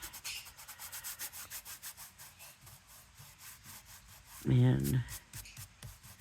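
Thick lunar paste is rubbed off a surface with quick, rhythmic back-and-forth scrubbing strokes up close, briefly interrupted by a single spoken word.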